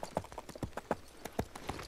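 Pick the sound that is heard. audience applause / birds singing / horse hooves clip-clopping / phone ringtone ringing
horse hooves clip-clopping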